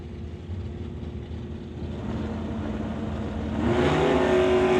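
A Chevrolet Nova drag racing car accelerates down the strip at an NHRA Summit ET race, engine roar building steadily louder and rising in pitch toward the end.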